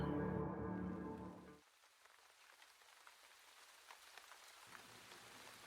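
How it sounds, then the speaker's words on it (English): Soft, steady rainfall with scattered light drops pattering on a surface, faint and continuous, following a brief fading hum at the start. "Such a pleasant sound. Rain."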